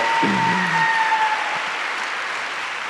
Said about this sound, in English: I think we should clap for that